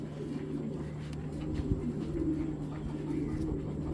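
Low, murmuring coos of racing pigeons roll on steadily, close by, over a constant low hum and some soft background noise.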